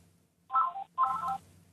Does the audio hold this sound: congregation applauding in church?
no